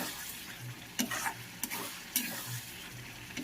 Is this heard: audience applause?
no